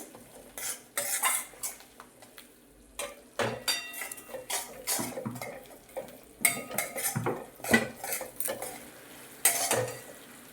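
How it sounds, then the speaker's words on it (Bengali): Metal spoon scraping and clattering around a pan while masala spices are sautéed, irregular loud stirring knocks and scrapes with a faint sizzle beneath, no talking. "মশলাটা ভালো করে কষাবো পনেরো কুড়ি মিনিট ধরে মশলাটা কষাবো"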